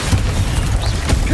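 A Bombarda spell going off in the video game Hogwarts Legacy: a low, rumbling boom that holds steady across a short moment, with brief bursty crackles on top.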